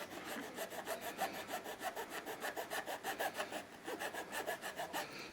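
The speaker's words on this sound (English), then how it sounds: "it's just a matter of filing that off." Rhythmic back-and-forth filing strokes on a part during a 500W wind turbine installation, rapid and evenly paced but faint, with no voices.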